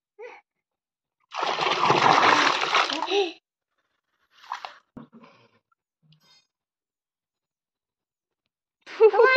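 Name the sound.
water poured while bathing a child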